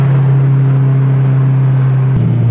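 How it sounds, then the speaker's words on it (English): A loud Honda S2000 sports car exhaust drones at a steady, low idle, rumbling deep and close, with a brief shift in tone near the end. "This exhaust gotta go. I'm so sorry, neighbors."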